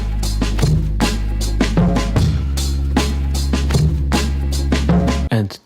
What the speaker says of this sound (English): So together that kick with the drum loop is going to sound like this.